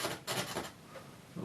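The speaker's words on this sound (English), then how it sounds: "Of course, you can scrape using a knife." A knife rasps across wet oil paint in a few short, soft scraping strokes, quiet and close, with pauses between them.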